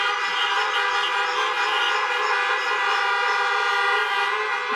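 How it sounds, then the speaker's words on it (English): A sustained, steady car horn honk at a university convocation, a loud unbroken chord-like blare that holds without pause from start to finish. "may I ask you to please honk your horn and give them a big hug"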